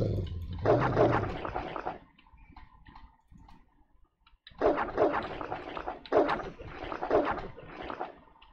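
Puppies bark and yip in a video game, a close burst at first, then a pause and renewed rapid bursts of barking.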